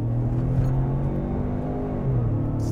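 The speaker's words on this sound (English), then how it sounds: "Yuri, can you floor this 8-speed auto for me in normal mode?" A 2021 Ford Bronco Sport with an 8-speed automatic accelerating at full throttle in normal mode, heard from inside, with a loud rising engine drone and a shift dip near the end.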